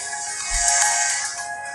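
A Samsung Z2 phone running Tizen plays its ringtone at loud volume, a bright, sustained melodic tone that fills the whole short stretch without any talking.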